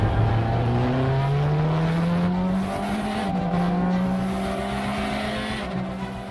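Praga race car in a racing video game pulling out of the pits, its engine note climbing steadily through gears with a rising whine and faint tire noise, close and alone.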